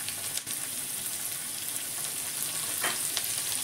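Chopped onions with a pinch of salt sizzling steadily in a pan, a dense continuous crackle with a few brief stirring scrapes, close and alone.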